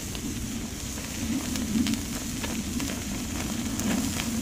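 Steak roasts on a maple racquet held over an open wood fire, giving a steady close crackling sizzle with soft pops scattered through, no one talking.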